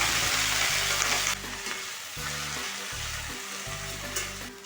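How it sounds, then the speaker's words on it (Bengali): Bottle gourd greens fry in a little mustard oil in a wok, giving a steady close sizzle with rhythmic stirring scrapes, loud at first then slightly softer, with no talking. "কড়াইতে অল্প পরিমাণ সরষের তেল দিয়ে লাউ শাকগুলোকে ভেজে নেব"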